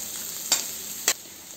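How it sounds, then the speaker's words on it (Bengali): Chopped onion frying in butter for fried rice, a constant bright sizzle broken by two quick spatula scrapes, close and with no voices. "পেঁয়াজগুলো ভাজা হয়ে গিয়েছে"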